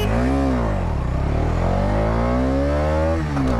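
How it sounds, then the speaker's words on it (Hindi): A 2023 Bajaj Dominar 250 E20 motorcycle pulls hard in first gear, its loud, close engine note climbing steadily in pitch for several seconds, with a brief dip near the end before rising again. "चलिए एक्सेलरेशन टेस्ट करते हैं"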